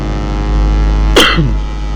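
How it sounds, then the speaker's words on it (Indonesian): A single sharp cough bursts out over a steady engine hum, brief and close, then the low background drone carries on. "sorry guys, lagi masih agak sedikit batuk"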